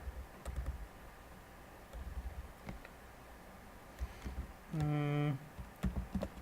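Keystrokes on a computer keyboard during a programming tutorial, a few scattered faint clicks and short bursts of typing in a quiet room, with a brief tonal beep partway through.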